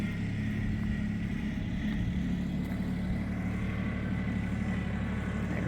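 A tractor's engine drones steadily and loudly at close range at a rural cabin as it drives off to fetch more gravel, with a constant low rumble and no voices.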